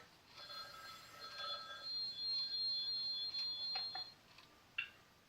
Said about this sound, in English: I got a phone call. Oh, it's always ringing here on the tube.